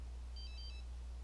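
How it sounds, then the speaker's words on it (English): A phone ringtone chirps in a short electronic burst of high tones, standing out over a steady low hum. "whose phone keep ringing?"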